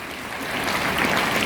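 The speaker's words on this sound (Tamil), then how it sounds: "கைதட்டுங்க டீச்சர்ஸ்" Teachers applauding at an awards event, a dense, steady wash of many hands clapping together at moderate distance.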